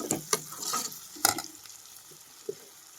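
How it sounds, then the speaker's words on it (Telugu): Onion, chilli and tomato pieces cooking in a pan, heard as a soft, uneven sizzle broken by a few sharp stirring scrapes and clinks near the start and middle, with quieter pops toward the end. "ఉల్లిపాయలు మిరగాయలు టమాటా ముక్కలు అయితే మగ్గినాయండి"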